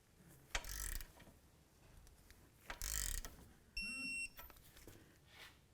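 Torque wrench tightening a front lower ball joint nut on a 2002-2006 Honda CR-V: a few short ratcheting clicks and mechanical bursts, then a thin electronic beeping, all quiet and close.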